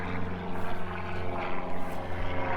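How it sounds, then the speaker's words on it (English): Small propeller airplanes fly over a community garden in Regina, a steady droning engine hum that rises and falls gently and sounds moderately distant, with no talking. "But a lot of little airplanes flying over."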